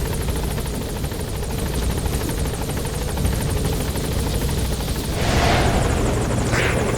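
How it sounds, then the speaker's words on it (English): A military support helicopter in a video game: steady rotor thrum and engine whine fill the scene, loud and close, with a brief rushing swell near the end. "Support helicopter has arrived."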